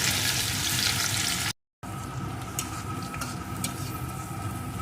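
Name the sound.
crushed garlic and sugar frying in a pan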